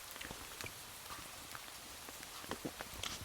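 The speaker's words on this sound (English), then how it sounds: "But I think the rain is easing off." Rain pattering onto a tarp at a wet forest camp, faint and steady with scattered individual drops ticking close by.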